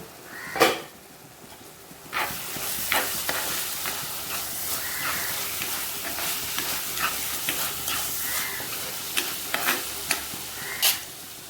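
Gravy cooking in a pan sizzles steadily at a moderate level, broken by repeated sharp clinks and scrapes of a spoon stirring against the metal, with no voices.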